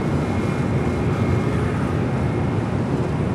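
A large cargo jet, a Boeing 777 freighter, rumbles steadily as it taxis at Los Angeles International Airport, its broad, continuous engine roar heard from a moderate distance with no voices.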